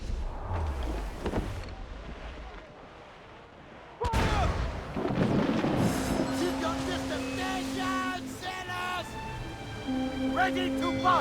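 Ship cannons from a naval battle in the Assassin's Creed Freedom Cry video game boom out in heavy blasts amid shouted crew orders, with a large impact near the start and continuing rumbling fire underneath the voices.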